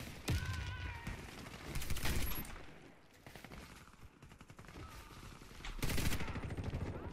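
Rapid bursts of suppressed fully automatic Calico M951S sniper fire in the Warface video game, clusters of quick muffled shots separated by short pauses, with a player talking faintly in between.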